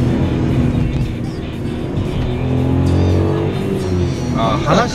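Engine of a Suzuki Alto Turbo RS kei car while driving, a steady droning hum with some rising revs, heard from inside the cabin under people talking.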